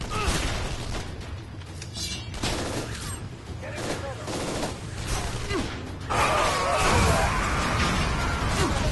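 Revolver shots crack out in the Shadow Warrior video game, several sharp bursts scattered among whooshes and crashing game effects, with a voice talking over parts of the action.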